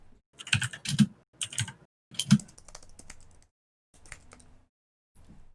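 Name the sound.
typing on a Mac keyboard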